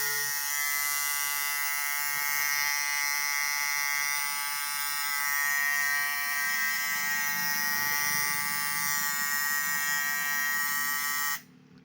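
A sound attachment on a battery-powered head torch gives a loud, steady electronic alarm tone for about eleven seconds, constant and close, then cuts off abruptly.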